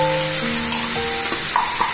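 Ground gongura leaf paste fries in a pan, producing a loud, continuous sizzle with spatter and the scraping of stirring, close up and with nobody speaking.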